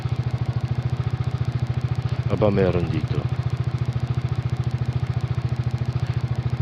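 A Bajaj Dominar 400 motorcycle engine idles while warming up, a steady close, rapid low thumping pulse throughout, with someone briefly talking over it midway.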